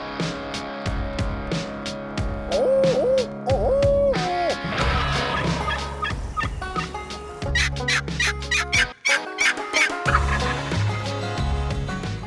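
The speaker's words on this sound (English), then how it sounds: "They will gobble their heads off, but most of the time they won't leave their hens." Wild turkey gobblers gobbling loudly and repeatedly from several birds, bursts overlapping across the scene with nearby chirps and calls in open country.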